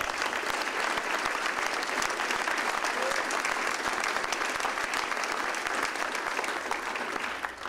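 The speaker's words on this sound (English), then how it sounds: "Let's give them as representatives a big round of applause." Dense, steady applause fills a hall at a quarterly award ceremony at Fort Jackson, a loud sustained clapping from a large audience that carries on evenly and only begins to thin at the very end.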